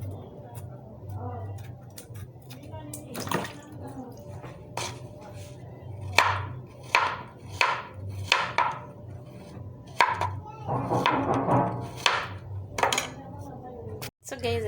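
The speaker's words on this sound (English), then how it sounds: "I'm just done chopping my bananas." Bananas being chopped on a board, a series of sharp knife taps at an irregular rhythm, close and fairly loud, with a person talking between and over the cuts.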